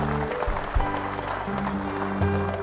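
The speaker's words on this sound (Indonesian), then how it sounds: "Kita beri tepuk tangan yang meriah." Audience applause at a Yayasan Damandiri 15th anniversary ceremony in Yogyakarta, steady clapping from a crowd with a low hum beneath and no talk over it.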